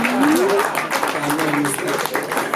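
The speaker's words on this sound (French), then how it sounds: "Applaudissez pour le DJ pour cette petite chanson." Audience at a live stand-up comedy show in Kigali applauding the DJ, a dense, steady wash of clapping under a voice and brief sung or whistled tones.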